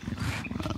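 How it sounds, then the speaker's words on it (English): A creature in the video game Spore gives a full-on roar, a short, loud, growling burst that ends in a sharp click. "he actually did like a full-on roar"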